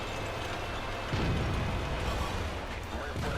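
Artillery fire in World of Tanks, a steady low battle rumble with a heavier boom landing partway through and another toward the end, under faint game noise and no clear voices.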